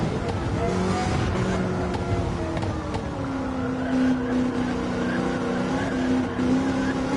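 Race cars in an online stock car racing game on an oval, engines droning and pitching steadily with a squealing, strained tire tone running throughout, loud and continuous without speech.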